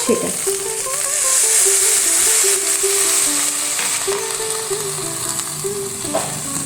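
Okra frying in a pan as ground ginger and chili paste is added, a steady close sizzle with rattling stirs and scraping, faint tonal hum in the background, no clear talk.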